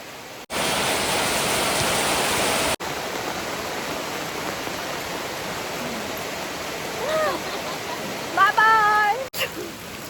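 Steady hiss of the first April rain falling, cut by brief breaks, with a voice calling out near the end over the downpour.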